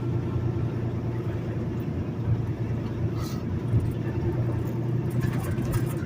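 An unloaded semi truck rolls along a highway between Kilgore, Texas and Dallas, its cab filled with a steady, loud low rumble and road drone that holds constant throughout, with no voices.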